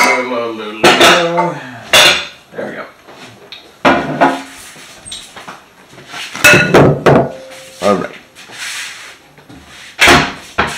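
Bowls, dishes and utensils being taken out in a kitchen to make waffles: a series of loud, close clanks, knocks and clinks of ceramic and metal, irregularly spaced, with short quieter gaps between.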